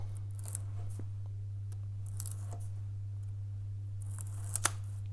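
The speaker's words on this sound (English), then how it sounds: "I'm going to use a scalpel in this case, and what I'm going to do is to cut off" A scalpel trims excess white veneer strip on a herringbone rosette for a classical or flamenco guitar, giving a few soft, brief scraping cuts over a steady low hum.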